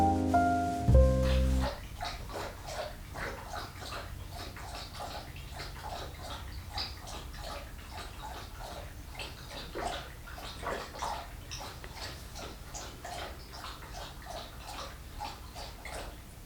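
A pet laps water steadily from a refillable water dispenser, a continuous run of soft wet laps and small splashes repeating for a long stretch, close to the listener.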